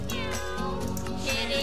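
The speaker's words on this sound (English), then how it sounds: "I can hear him purring." A cat in the game Minecraft meows and purrs in short repeated calls, close and fairly loud over steady background game music.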